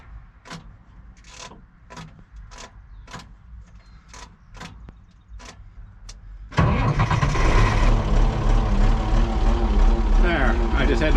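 A tractor engine cranks with the key held: a run of separate starter clicks and whirs for several seconds, then the engine catches and roars into a loud, steady idle.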